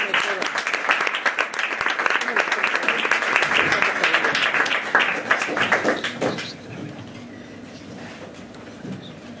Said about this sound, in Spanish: a Inma Luna, la recibimos con un aplauso, por favor.